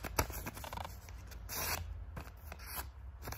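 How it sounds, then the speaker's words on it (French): Paper is folded into three with crisp rustles, creases and sliding scrapes, close and fairly quiet, with no talk over it. "vous allez prendre le papier et vous allez le plier en 3 fois"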